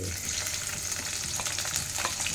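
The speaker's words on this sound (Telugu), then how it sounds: "ఫ్రై చేసుకున్నాం దూరగా ఫ్రై చేసుకోవాలి" Green chillies, curry leaves and onions fry in hot oil in a pan, giving a loud, continuous sizzle with occasional stirring scrapes.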